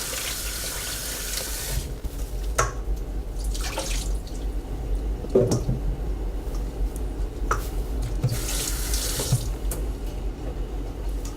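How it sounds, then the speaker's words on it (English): Running tap water pours steadily into a sink while tomatillos are washed, with a continuous close splash and a few brief knocks and drips over it. "make sure you wash your tomatillos"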